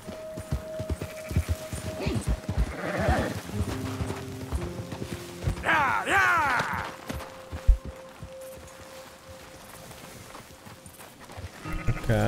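Sheep bleating in Red Dead Redemption 2 near Valentine, with a few wavering bleats among steady hoof clip-clops and game ambience, while someone talks in Polish over it.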